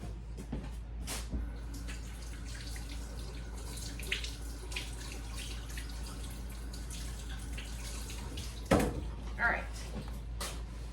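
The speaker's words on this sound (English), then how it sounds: "I'm going to go ahead and wash my hands even though they're going to get dirty again." Hands are washed under a running kitchen tap, with a steady wash of flowing water. A few brief knocks and splashes stand out against it, including a sharper clatter near the end.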